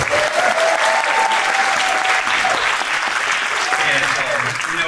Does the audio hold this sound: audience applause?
yes